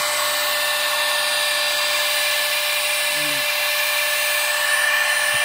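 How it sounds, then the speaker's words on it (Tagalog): Small electric vacuum pump drawing air from a resealable bag, a steady high-pitched whirring hiss with a constant tone running throughout, loud and close, with a brief low murmur partway through. "So dali ra kaayo sa mag-vacuum."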